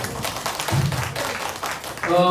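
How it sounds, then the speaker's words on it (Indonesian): Teachers in an audience clap together for a presenter at a school workshop on positive school culture: a dense, steady patter of many hands with a voice rising near the end. "beri tepuk tangan dulu dong Bapak Ibu"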